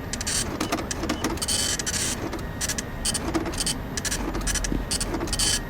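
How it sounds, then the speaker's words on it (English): A printer mechanism in the Five Nights at Freddy's 6 video game runs steadily, a dense, buzzy mechanical whirring with rhythmic clicks and pulses, fairly quiet and continuous throughout, with no speech. "I know it's just the printing, but it's still really scary."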